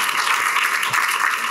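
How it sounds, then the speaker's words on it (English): A community meeting audience on safe schools in Chicago applauds a longtime school safety worker, a steady, even wash of clapping from many hands that holds at full strength throughout without talk. "she deserves a round of applause"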